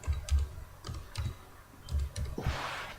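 Computer keyboard typing in quick bursts of close, crisp key clicks with short pauses between runs, ending in a slightly noisier flurry of keystrokes.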